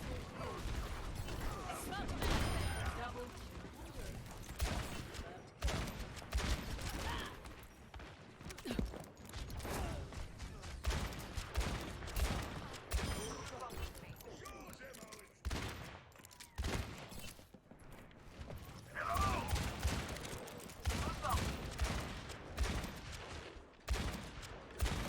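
Ashe's rifle fire in Overwatch, shots cracking out repeatedly through a dense, busy match mix of abilities and mechanical clatter over about 25 seconds.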